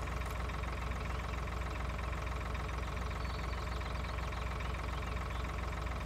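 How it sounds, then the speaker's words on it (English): The engine of a farm combine harvester rumbles steadily at a distance while backing up in a field, a continuous low drone with a faint knocking texture and no voices. "so this combine will back up."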